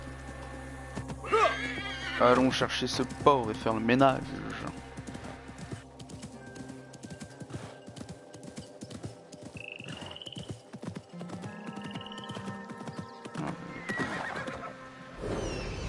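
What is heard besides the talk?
horse neighing and hooves in video game Assassin's Creed Mirage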